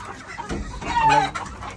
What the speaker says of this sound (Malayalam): കോഴികൾ എത്ര ഉണ്ട്? 200 കോഴിയുണ്ട്.